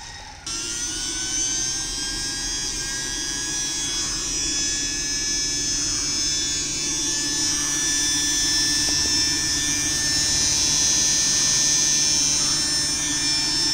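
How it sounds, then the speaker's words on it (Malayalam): A kitchen mixer grinder runs on DC from a solar-charged battery, giving a steady, loud motor whine that holds unbroken throughout with no voices. "ലൈവായിട്ട് മിക്സി സോളാറിലാണ്"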